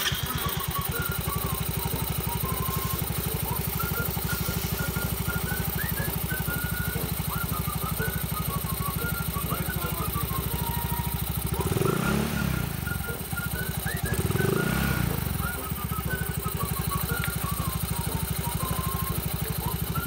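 A motorcycle engine with a newly fitted JNM CVT pulley set at a 13.5-degree angle runs steadily for a test, a continuous mid-pitched drone with two brief revs partway through, loud and close with no talk.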